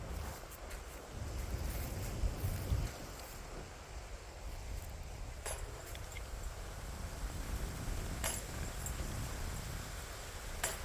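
Wind buffeting a microphone outdoors on a disc golf course near a library trail in Sneads Ferry, a steady low rumble with stronger gusts in the first few seconds and occasional faint clicks.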